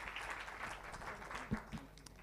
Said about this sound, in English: Let's give a big round of applause to our speakers and to audience